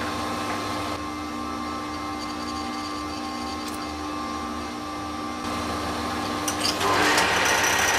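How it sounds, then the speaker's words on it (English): Steady mechanical whir of a metal lathe running at constant pitch, with a harsher cutting noise rising near the end as the center drill bites into the metal. "we'll center drill it"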